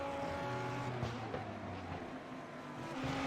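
A Lamborghini Super Trofeo race car at Autodromo Jose Carlos Pace, engine droning loudly and steadily as it drives on track, pitch shifting slightly as it passes, with no talking.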